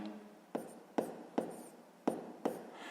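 Pen or pencil strokes writing out a sixth-grade math exercise, five sharp taps and scratches at a steady pace, close and fairly quiet with no talking.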